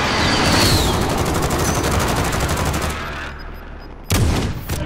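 Rapid automatic gunfire in the Warzone video game: loud, dense bursts of shots that keep rattling, ease off briefly, then return in another sharp volley near the end.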